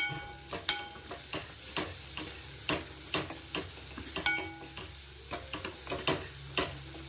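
Small onions sautéing in a pan for dal, with a soft background sizzle broken by frequent sharp clicks and scrapes of stirring, moderately quiet and steady throughout with no talking.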